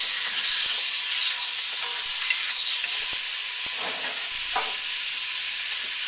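Pork spareribs brown in a hot wok, giving a loud, dense, continuous sizzle up close, with occasional scrapes and clicks from stirring and no voices.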